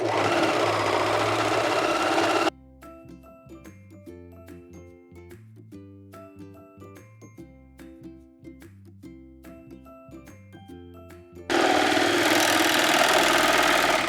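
A serger stitches a lettuce hem along the edges of t-shirt sleeves, its rapid mechanical whir running steadily for several seconds between louder bursts of background noise at the start and end.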